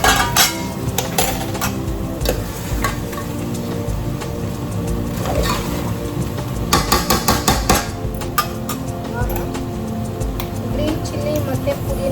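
Mutton fries in a pan while a metal spoon stirs and scrapes it, with a steady sizzle, repeated clanking knocks against the pan, and a voice speaking over it.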